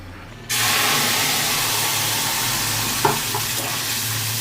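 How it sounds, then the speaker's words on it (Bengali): Curry leaves and spice paste hit hot oil in a wok with a sudden loud sizzle that holds steady and close, with a few light clanks of a utensil near the end. "কড়াইতে তেল দিয়ে দিয়েছি তেলটা গরম হয়ে গেছে প্রথমে দিয়ে দেবো কারি পাতা তারপরে ওই মশলাটা দিয়ে দেবো"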